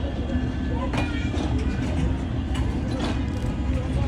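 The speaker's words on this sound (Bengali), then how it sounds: "তো এই যে ট্রেনটা চলে যাচ্ছে" A large new train rolls past on the Khulna railway, a constant low rumble with faint rhythmic wheel clatter staying level throughout.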